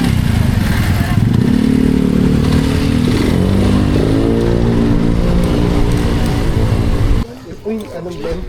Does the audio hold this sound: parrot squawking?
no